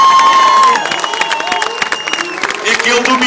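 Spectators at a national stunt riding championship kart cross event in Coimbra clap and cheer in a mid-distance burst, while an engine whines and shifts pitch underneath, punctuated by sharp claps and shouts.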